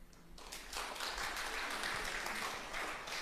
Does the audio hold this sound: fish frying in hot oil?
no